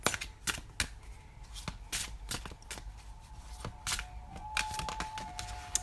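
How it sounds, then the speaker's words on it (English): A deck of angel answer oracle cards is shuffled by hand, producing close, rapid papery riffles and flicks in irregular bursts, with no talking. "So we'll just shuffle these, see what comes out."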